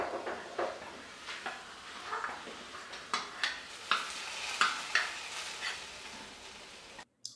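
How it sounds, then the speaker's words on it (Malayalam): Onions sautéing in a pan for a mushroom masala curry, a soft continuous sizzle broken by repeated stirring scrapes and light clatters at a loose rhythm, close but fairly quiet, no talking, ending abruptly. "ഉള്ളിയൊക്കെ ഇടാണ്. അത് നല്ലപോലെയൊക്കെ ഒന്ന് വഴന്ന ശേഷം നമ്മളെ കറിക്ക് ഇടണം."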